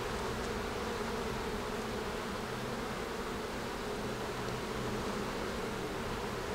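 A honeybee colony hums on a hive frame in a Quebec apiary, a dense, even, continuous buzz close to the microphone with no voices.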